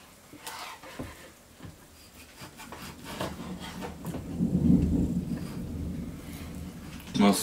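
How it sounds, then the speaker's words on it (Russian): Thunder from an approaching storm over a village in the Urals: a low, rolling rumble that builds through the middle and fades, heard outdoors under scattered rustling. "У нас, судя по всему, гроза сейчас будет."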